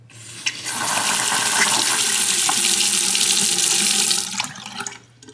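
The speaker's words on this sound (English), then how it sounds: "Let's turn back on the water." Water gushes steadily from a Moen bathroom faucet with a newly replaced 1224 cartridge after the supply is turned back on, a loud broadband rush lasting about four seconds before it is shut off again.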